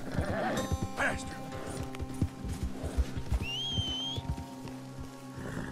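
A horse in the Red Dead Redemption II game whinnies and snorts with clip-clopping hooves, a rising neigh near the end, while someone talks over it throughout.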